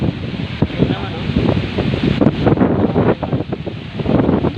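Gusty wind blows around a clothesline outdoors, a steady broadband whoosh with rushing swells and rustling bursts, loud and close to the microphone, with people talking under it.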